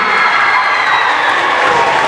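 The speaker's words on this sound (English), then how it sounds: "And Mr. Cartwright, a nice round of applause," Audience at a 2015 spelling bee cheering and applauding loudly for a recognized participant, a dense, steady roar of claps and shouts with no break across the whole stretch.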